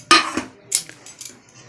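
Soaked rice with its water tipped into a cooking pot for khichuri, a few sharp close metallic clanks and scrapes of vessel against pot, with quieter knocks trailing off.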